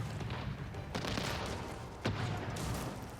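Several ship cannons firing in Age of Empires IV naval combat, a scatter of booming volleys with sharp blasts near one and two seconds, moderately loud over ongoing rumbling battle noise.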